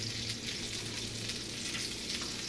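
Atlantic salmon sizzling in a hot pan, a dense unbroken hiss of frying, moderately faint and steady from start to end with no speech.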